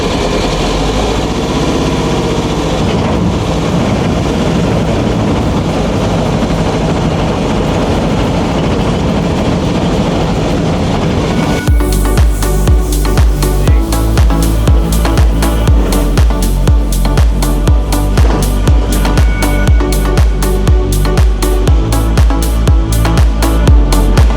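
A Volkswagen Baja Buggy 2.0 engine cranks with a dense, rough whir, then catches halfway through and settles into a loud, steady, rapidly pulsing run heard up close.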